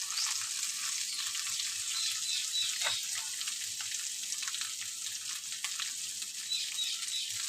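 Vegetables with chillies frying in a pan, a steady bright hiss and crackle of hot oil that holds close and even throughout, with faint stirring clinks.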